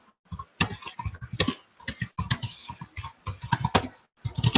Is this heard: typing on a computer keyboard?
yes